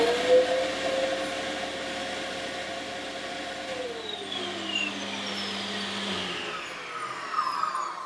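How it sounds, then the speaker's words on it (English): Axminster Craft AC216TS 216mm table saw running together with a canister dust extractor: a loud, continuous suction roar over the saw's motor whine, which audibly winds down in pitch near the end. "So my dust extractor is definitely louder than the saw itself."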